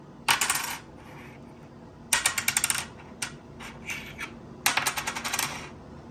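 A 1973 Denver coin dropped onto a hard surface three times, each drop a bright metallic clatter of quick bouncing ticks that dies away within about a second, close and clear with quiet gaps between.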